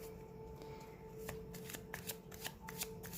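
Oracle cards being shuffled for a tarot reading: soft, close riffling and sliding of the card deck, with rhythmic light flicks and taps in quick succession, fairly quiet over a faint steady hum.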